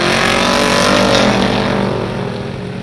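Street stock race cars roar around the track at Barona in a heat race, a loud, continuous pack of engines droning close by with no break.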